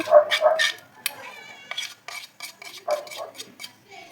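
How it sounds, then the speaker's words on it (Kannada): Chicken being mixed with marinade in a bowl produces clinking and scraping of a utensil against the dish in uneven bursts, fairly close and without speech. "ಇದನ್ನು ಹಾಕಿ ಮಿಕ್ಸ್ ಮಾಡಿಕೊಂಡು ನಾವು 1 ಗಂಟೆ ಅಷ್ಟು ನೆನೆಸಿಟ್ಕೊಳ್ಬೇಕು"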